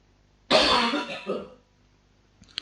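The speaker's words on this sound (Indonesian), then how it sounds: "saya lagi batuk-batuk." A single harsh cough close to the microphone, a rough burst lasting about a second with a trailing rasp, followed by a faint short throat-clearing sound near the end.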